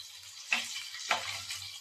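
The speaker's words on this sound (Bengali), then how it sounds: "দেখুন কি সুন্দর মচমচে ভাজাটা হচ্ছে" Chicken pieces for chili chicken fry in hot oil, a soft, quiet sizzle with two brief louder crackles as they are turned.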